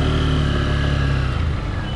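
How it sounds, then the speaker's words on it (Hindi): Honda Hornet 2.0 BS6 motorcycle, a 180 cc bike, giving a steady, close exhaust note at an even idle or low cruise. "एग्जॉस्ट नोट काफ़ी अच्छा है"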